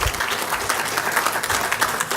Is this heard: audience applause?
yes